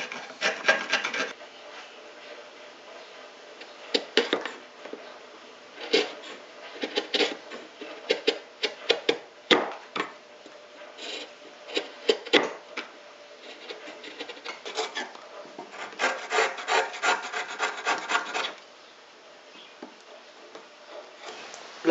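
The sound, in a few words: wood chisels paring wood for finishing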